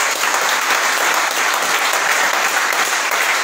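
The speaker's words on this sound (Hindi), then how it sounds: "आइए हम जोरदार ताली प्रभु यीशु मसीह के लिए बजाएंगे।" A church congregation claps loudly and continuously during a Hindi sermon, dense steady applause filling the room with no pauses.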